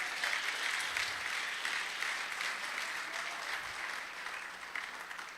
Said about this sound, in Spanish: ¿Cuántos le pueden dar un aplauso al Señor por eso?